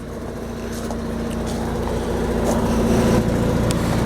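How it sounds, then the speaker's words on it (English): A 4 kW Onan generator runs steadily aboard a 2001 GBM Landau Class A motorhome on a Workhorse chassis, giving a continuous low engine drone with a steady hum that builds slightly in loudness, with no one talking. "It's got a 4 kW Onan generator powering everything on inside right now."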